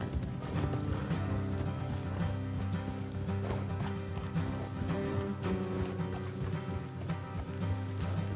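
Steady clip-clop of horse hooves in the video game Red Dead Redemption 2, over a dense bed of music and ambient noise, the rhythmic clatter continuing throughout at moderate volume.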